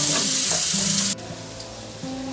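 Chopped onions with a spoon of salt sizzle loudly in a pressure cooker while being cooked down for a beef biryani masala, a steady close fry that drops quieter partway through with a few soft stirring scrapes.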